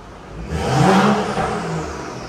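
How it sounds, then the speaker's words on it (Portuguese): BMW 335i with stage 2 upgrades accelerating hard, its turbo engine rising in a steady loud whir and rev with a swelling whistle over the engine drone, no talk. "A turbina tá piando muito mais."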